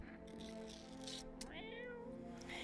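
A cat in a video game meows in drawn-out, tonal cries, a few distinct mews close and clear over a steady background hum.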